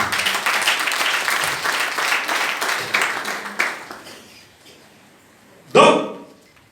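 Church congregation applauding during a sermon, a dense wash of clapping that runs steadily for several seconds, fades away, then one short loud burst near the end.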